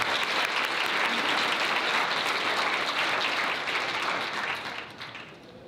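A wedding hall audience applauds during a Korean church-style wedding ceremony, dense steady clapping from many guests that holds evenly, then fades out toward the end.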